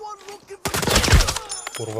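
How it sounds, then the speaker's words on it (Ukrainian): Gunfire in the video game Arena Breakout: a dense burst of rapid shots that lasts about a second, loud and close, set between quieter game sounds. "Люди стріляють"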